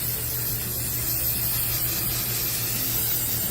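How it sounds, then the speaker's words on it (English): Rust-Oleum spray paint hisses in a soft, steady stream onto a fragile agate rock, close and fairly quiet throughout. "We've got Rust-Oleum spray for this fragile agate that wouldn't have survived in the tumbler."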